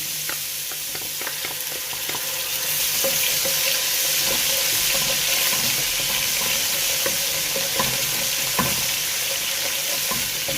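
Garlic ginger paste and green onions sauté in a pan for chicken Manchurian, giving a steady, close sizzle with frequent scraping stirs and light clinks throughout, and no talking over it.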